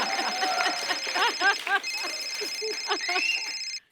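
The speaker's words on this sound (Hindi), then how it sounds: "ये मेरा फोन बजा।" A phone ringtone plays a bright, repeating electronic melody of quick chirping notes for a few seconds, then cuts off abruptly.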